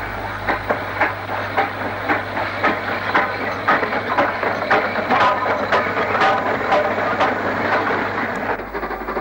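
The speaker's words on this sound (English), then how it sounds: "A WD-280 runs light engine towards the city." A WD steam locomotive running light engine toward Birmingham in the 1960s chuffs past with irregular exhaust beats and wheel clatter over a steady rumble, moderately close and without talk.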